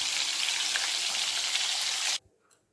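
Loud, even sizzling of pointed gourd frying in oil over medium heat fills the clip, then stops abruptly near the end, leaving near silence.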